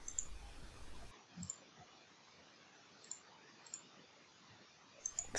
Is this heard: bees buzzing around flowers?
no